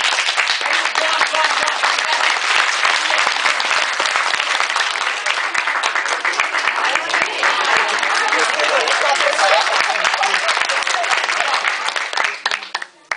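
A large crowd applauds continuously for over twelve seconds at a lecture, a dense steady roar of clapping that tapers off abruptly at the end.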